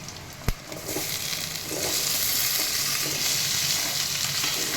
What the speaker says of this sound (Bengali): আলুটা এবার আমি একটু ভালো করে ভেজে নেব